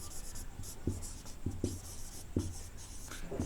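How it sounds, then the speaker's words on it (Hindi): Chalk or marker strokes on a board as a sentence is written during an English lesson, faint scratchy taps and short strokes spaced irregularly, fairly quiet with room hum and no talking. "जैसे एक सेंटेंस लिखते हैं, जैसे राम"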